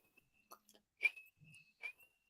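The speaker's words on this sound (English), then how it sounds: "this man taught me how to whistle this way" A person gives a high two-finger whistle, a thin piercing tone that rises and falls in short bursts. It is quiet and heard alone, with small mouth noises between the notes.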